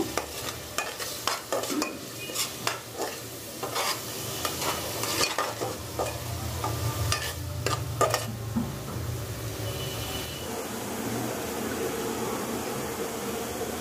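Ginger, garlic, chili powder, salt and ground coriander frying in a pan, a steady sizzle under brisk, repeated stirring scrapes that ease into a continuous hiss toward the end, with no speech.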